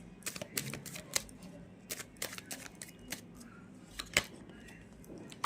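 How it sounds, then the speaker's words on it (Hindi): Tarot cards being shuffled and drawn at a close, quiet table: a string of crisp riffling flicks and soft snaps, fairly faint, with no talking. "एक और कार्ड मैं निकालना चाहूँगी"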